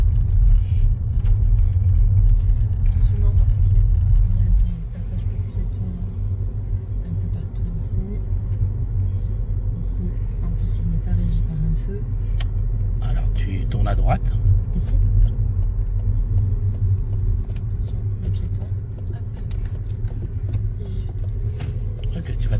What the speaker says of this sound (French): Je regarde les voitures derrière moi. Je redémarre.